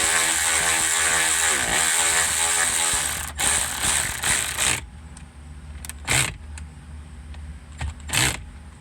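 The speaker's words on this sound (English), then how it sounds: "you can tighten up that 10 millimeter bolt and put everything" A ratchet wrench tightening a 10 millimeter bolt on a mount, a fast run of clicking pawl strokes close by, then a few short bursts of clicks and mechanical clunks.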